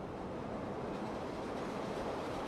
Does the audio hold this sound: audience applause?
no